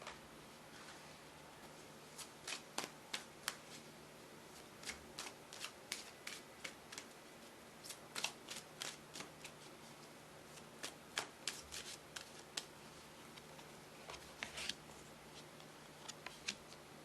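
A tarot card deck shuffled alone in a quiet room, with quick crisp riffling and snapping bursts that repeat irregularly through the whole stretch and sound near.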